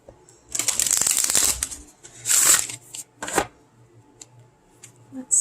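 Tarot cards shuffled for a pick-a-card reading: a close, crisp riffling burst that runs for about a second, then a second shorter shuffle and a few scattered card flicks and taps.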